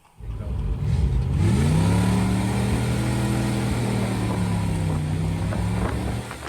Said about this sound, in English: we can hear the sound of the engine